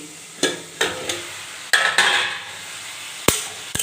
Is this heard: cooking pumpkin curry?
yes